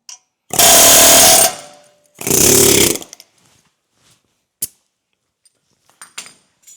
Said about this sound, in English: And then blip with an impact wrench.